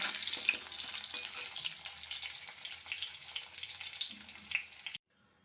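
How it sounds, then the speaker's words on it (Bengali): Close, steady sizzle of potatoes frying in oil in a wok, bubbling and crackling for several seconds before cutting off to silence. "এবারে কড়াইতে আলুগুলো দিয়েছি, এগুলো ভেজে নেব ভালোভাবে।"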